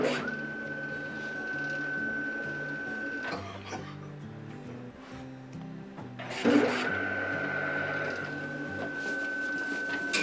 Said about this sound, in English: You hear that printer over there? Every button that is pushed on the machine logs on that printer.